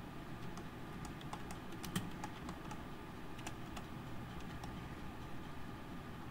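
Quiet, irregular clicking of keys on a computer keyboard, a run of light taps spread across several seconds over a soft background hiss.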